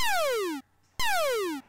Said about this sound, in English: the other one will be a laser shot.